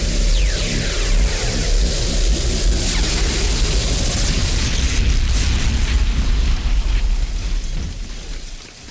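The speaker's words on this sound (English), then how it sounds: "retreat to a safe distance to avoid damage from the ion cannon blast" An ion cannon blast from the Command & Conquer Renegade video game roars as a loud, sustained explosion with rumbling and crackling debris, filling nearly nine seconds before easing off at the end, with no voices.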